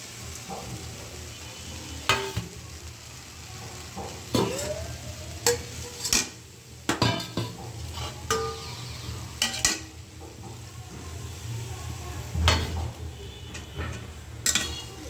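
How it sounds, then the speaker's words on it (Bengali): Hilsa fish and green chillies are sautéed in a spice paste, giving a low steady sizzle broken by irregular sharp clicks and scrapes of a spatula against the pan, close and fairly quiet, with no voices. "তো মশলাটা কষায় নিচ্ছি, এখানে যে ইলিশ মাছ আর কাঁচামরিচ দিয়ে দিলাম।"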